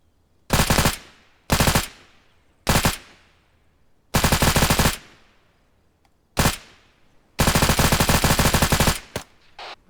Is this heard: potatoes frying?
no